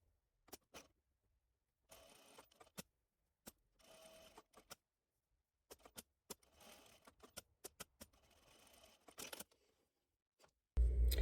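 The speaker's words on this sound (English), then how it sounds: "do 1 row of top stitching around the edge" Short bursts of a sewing machine top stitching around the edge of a pocket flap, quiet stitching runs broken by pauses and brief clicks, ending in a loud thump.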